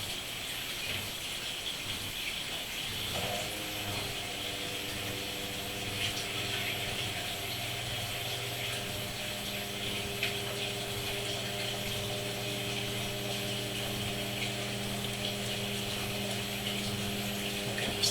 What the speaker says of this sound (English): I now have to go over and turn the pump on to move the wastewater into the drain system